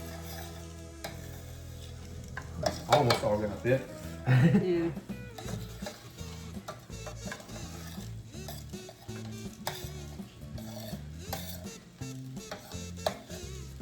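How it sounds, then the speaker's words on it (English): A soft sizzle of asparagus cooking in a pan sits under casual conversation, with stirring and scraping sounds throughout. "I hear a little sizzle in there."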